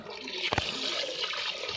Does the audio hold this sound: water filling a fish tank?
yes